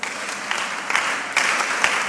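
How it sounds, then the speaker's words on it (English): An audience claps at a mentorship session in Accra, Ghana, producing a steady, moderate patter of many hands with a few sharper bursts, heard alone without talk. "Please clap for her"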